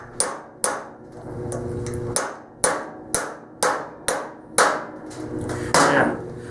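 A socket being hammered to drive a part into a 2001 KTM 250 two-stroke motorcycle during assembly until it bottoms out, about a dozen sharp metallic knocks in a steady rhythm, close and loud.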